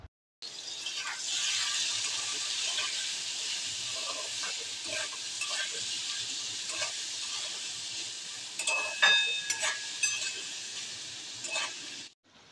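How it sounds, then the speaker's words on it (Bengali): Tomatoes with salt cook down in a pan for a quick spiceless potato curry, giving a steady close frying sizzle with soft stirring scrapes and a few brighter clinks near the end, with no talk. "ভালো করে নাড়তে হবে যতক্ষণ না টমেটোটা গলে যায়"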